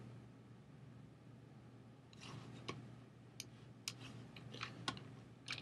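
Code being typed on a computer keyboard: faint, irregular clusters of light key clicks over a quiet background hum, with no talking.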